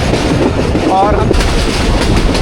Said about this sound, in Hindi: ये बकराला से थ्रू पास हो रही है वर्किंग डाउन अवाम एक्सप्रेस।